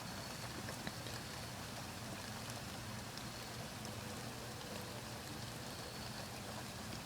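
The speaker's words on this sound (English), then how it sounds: "it's raining, and you hear a bunch of noises out there" Steady rain falls outside a house, a dense, even wash of patter with no break in loudness from start to end and no voices.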